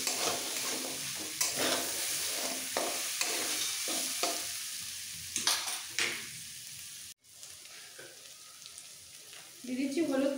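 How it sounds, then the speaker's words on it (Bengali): Rice and lentils fry with turmeric powder for a festival khichuri as a spoon scrapes and stirs them in the pan, giving uneven sizzling bursts and knocks, with a brief hush midway and faint talk. "দিয়ে দিচ্ছি হলুদ পাউডার, চাল ডালটা একটু ভেজে নিতে হবে"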